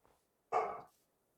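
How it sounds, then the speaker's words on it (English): A single short dog bark rings out as ambient sound in the Minecraft video game, isolated and fairly clear against near silence. "We get some dog ambience too. Isn't that great?"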